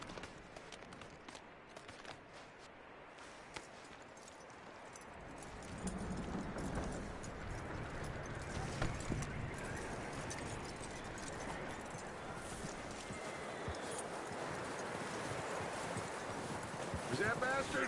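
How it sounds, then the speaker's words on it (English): Horse hooves clip-clop steadily in a video game, picking up and growing louder partway through, under ongoing spoken dialogue. "That looks like a decent horse."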